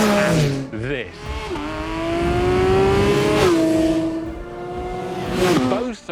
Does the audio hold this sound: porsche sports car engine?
yes